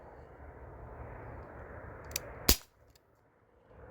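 An Umarex Brodax BB gun firing over a chronograph: one sharp, loud crack stands out near the end, with a fainter snap just before it, over a low steady background hum.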